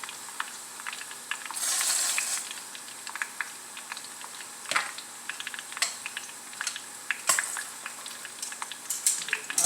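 Garlic cooking slowly in oil over a very low flame for mojo, giving a steady faint sizzle with scattered soft pops and crackles, brief louder bubbling bursts, no voices.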